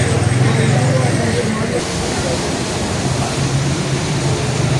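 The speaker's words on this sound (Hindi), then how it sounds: "पानी पीछे से बहुत ज़्यादा आ रहा है।" Heavy river water rushes through the Ravi headworks with all gates raised, a loud, steady broadband roar that runs unbroken from start to finish.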